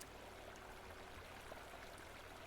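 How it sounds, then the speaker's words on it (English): Water in a survival crafting video game streams with a soft, continuous rushing hiss, faint and steady with no voices over it. "But here is some more water"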